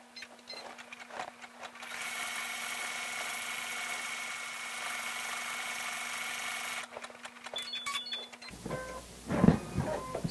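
An embroidery sewing machine stitches a motif in the hoop, a steady mechanical whir with a rhythmic needle pulse lasting several seconds, preceded and followed by brief clicks and handling noises.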